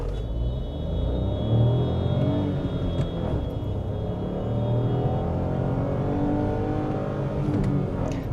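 A Renault Duster with a 1.0 turbo engine launches from a standstill, its engine note climbing loud and close in a continuous, steadily rising roar as it accelerates hard with short gearing.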